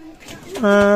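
A Saki Teddy pigeon from a breeding pair gives one short, close coo that swells and holds at the end, with a voice nearby.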